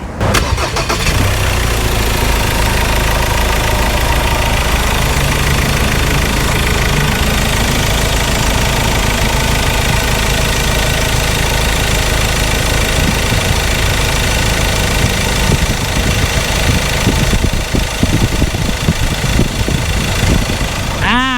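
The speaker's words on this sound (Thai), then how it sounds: "เดี๋ยวฟังเสียงเครื่องยนต์กันหน่อย" A 2015 Ford Everest 2.2 Titanium automatic diesel idles with its hood open, a loud, close, steady clattering rumble that runs unbroken for twenty seconds, with some talk mixed in.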